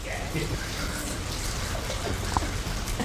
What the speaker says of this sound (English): Heavy rain falls at Ramat Doron, a Jewish camp